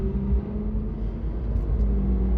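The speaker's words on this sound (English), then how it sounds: "Oh, listen to that engine." A white Ferrari 458 Italia sports car passing nearby with a deep, steady engine rumble and low hum, moderately loud and continuous throughout, no talking heard over it.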